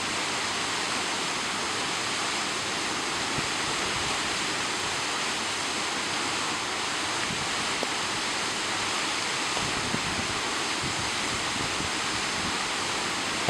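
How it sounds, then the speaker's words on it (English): A spectacular waterfall torrent plunges thousands of gallons over a 45-foot wall of impermeable shale in the Peak District, a dense, constant roar of falling water that stays steady and full throughout, with no voices. "it is transformed into a spectacular torrent which plunges thousands of gallons of water over the 45-foot-high wall of impermeable shale"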